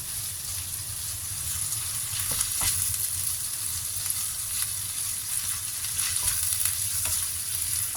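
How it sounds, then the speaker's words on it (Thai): Tofu being stir-fried in a pan, a continuous close sizzle with intermittent spatula scrapes and light knocks spread through the stretch, no talking. "ผัดเลยนะคะ"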